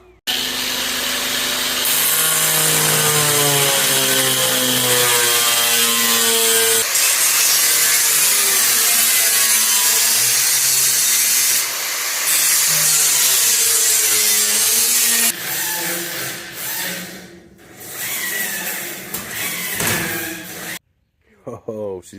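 Sawing through a vehicle fender to open a hole for a fender-exit exhaust, a loud, steady rasping cut running for most of the clip before breaking into shorter, uneven strokes and stopping near the end.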